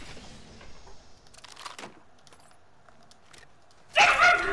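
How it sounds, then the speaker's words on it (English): A dog barks in a burst of loud, close yaps near the end, following quieter indoor rustling and a few thumps. "Oh, your dog has one of those barks."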